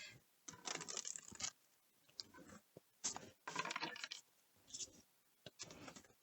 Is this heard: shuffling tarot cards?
yes